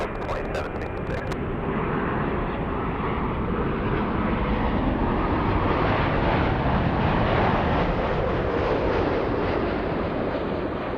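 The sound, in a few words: Emirates A380 taking off at LAX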